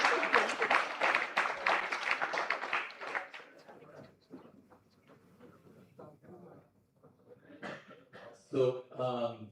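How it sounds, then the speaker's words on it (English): Applause for postgraduate doctors at a Doctor's Day medical education event rises briefly at the start, then fades into a speaker talking, with a little clatter near the end. "Give them a round of applause."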